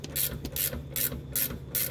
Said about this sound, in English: So now we're ratcheting off that second 14 milli.